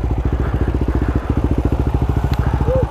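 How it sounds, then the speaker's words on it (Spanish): A Beretta 250cc enduro motorcycle runs close and loud on a dirt trail, its single-cylinder engine pulsing in a fast, steady throb throughout. "Yo voy a bajar un poco porque siento mi moto patinando mucho"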